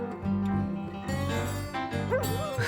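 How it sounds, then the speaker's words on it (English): A dog barks and whines on a song recording, several close yelping calls over a sustained musical backing. "I think they're just having a dog bark."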